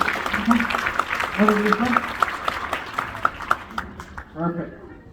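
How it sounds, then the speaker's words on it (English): An audience applauds a young child volunteer at a magic and music show, brief scattered clapping that comes and goes beneath a presenter's voice, with a few musical tones near the end. "Big round of applause"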